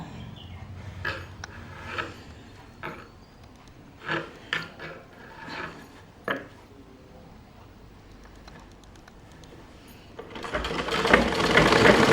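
A sewing machine stitches a blouse, running in several short quick bursts with pauses between, then settling into a louder continuous whir near the end, no speech over it.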